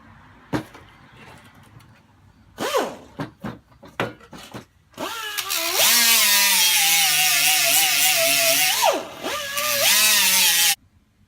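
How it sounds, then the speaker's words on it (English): An angle grinder grinds the cut end of a Ford Explorer 8.8 axle housing flat. A few short bursts come first, then a loud, continuous high-pitched grinding whine held for several seconds at close range before it cuts off. "So now I'm just gonna grind that down flat to it"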